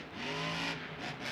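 A monster truck at a 2021 Monster Jam event in AT&T Stadium, Arlington, Texas, revs its engine hard after landing a jump, a loud, rough, roaring burst that swells and dips briefly.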